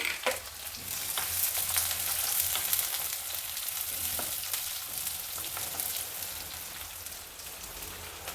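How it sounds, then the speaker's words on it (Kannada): Mustard seeds spluttering with cumin and onion frying in a hot pan, a dense steady crackle and sizzle with scattered sharp pops throughout, close and continuous with no talk. "ಈಗ ಸಾಸಿವೆ ಸಿಡಿತಾ ಇದೆ ಜೀರಿಗೆ ಹಾಕ್ತಾಯಿದ್ದೀನಿ"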